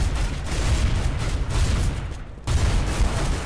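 Shotgun blasts in Counter-Strike: Global Offensive, loud and close, a steady run of heavy booming shots with a brief lull before the firing resumes.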